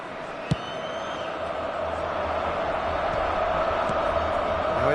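Football crowd in a video game roaring and cheering steadily throughout, a dense sustained wash of voices that swells slightly toward the end, with a brief sharp knock near the start.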